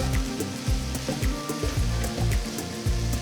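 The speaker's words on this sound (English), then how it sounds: "So you must always fry the potatoes first and then add the onions." Potatoes and onions fry in a pan for a Spanish omelette, giving a steady close sizzle with repeated scraping and stirring knocks throughout.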